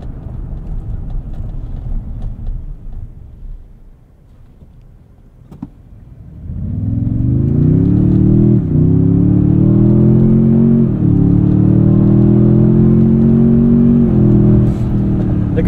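2024 Toyota Tundra TRD Pro i-FORCE MAX hybrid pickup accelerating from 0 to 60, a quiet idle giving way to a loud, rising engine drone with clear gear shifts as the revs climb and drop back.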